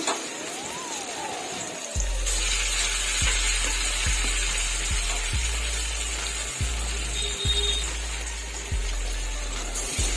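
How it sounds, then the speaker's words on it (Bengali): Steady, close oil sizzle of raw banana fritters frying, with periodic soft knocks and stirring sounds repeating every second or so. "প্রত্যেকটা বড়া ভালোভাবে ভেজে নেব আট কমিয়ে কমিয়ে ভেজে নেব"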